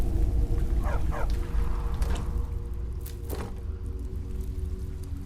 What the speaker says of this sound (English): There's a dog barking.